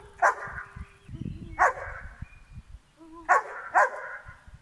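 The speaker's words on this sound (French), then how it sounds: "trouver ce qui déclenche l'aboiement de votre chien" A dog barks in short sharp bursts, a few single barks and a quick double bark, close and clear, with quiet rustling in between.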